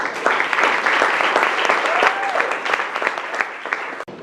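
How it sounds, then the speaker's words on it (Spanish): A church congregation claps steadily in sustained applause, dense and loud throughout, with voices mixed faintly underneath before it cuts off near the end. "Dele palmas al Señor"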